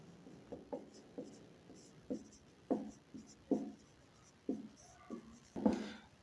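Chalk writing out a solution on a classroom board for a class 8 quadrilaterals lesson, a string of short taps and scratchy strokes in an uneven rhythm, close and fairly quiet, with no voice over them.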